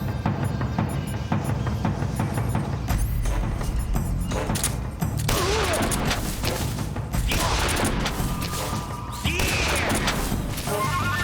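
Shotgun blasts and chaotic crashes from the video game Metal Gear Solid 3 fill a dense, loud, continuous stretch of combat sound effects with repeated impacts.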